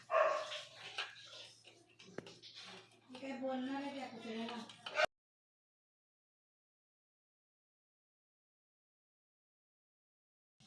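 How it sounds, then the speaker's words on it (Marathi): A dog barks several times in quick bursts nearby, followed by a long stretch of silence. "आमच्या शेजाऱ्यांचा कुत्रा खूप भुकतोय"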